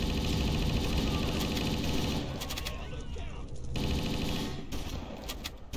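Dense automatic gunfire in a Garry's Mod battle between Halo marines and Doom NPCs, rapid continuous bursts of shots filling the scene, fairly near and steady throughout.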